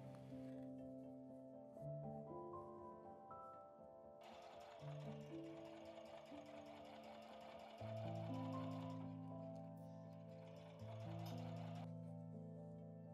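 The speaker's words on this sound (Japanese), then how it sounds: "ミシンで縫ったら完成ですよ。" A sewing machine stitching quilt batting and fabric scraps for a sewing basket runs in short bursts of rapid mechanical whirring, stopping and restarting several times, fairly faint and close with no talk.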